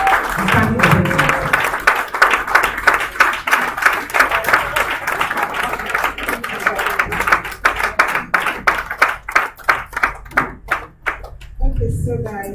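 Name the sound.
audience applause and standing ovation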